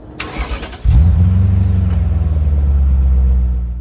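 A BMW M5 sport sedan with four tailpipes starts up: a brief starter whir, then the engine catches at about one second and settles into a steady, fairly subdued, throbbing idle that stays loud and close to the end.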